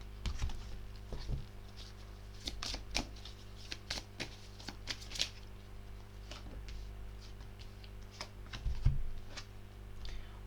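Tarot cards shuffled during a reading, soft papery riffles and flicks in irregular bursts over a steady low hum, fairly quiet and close, with no talking.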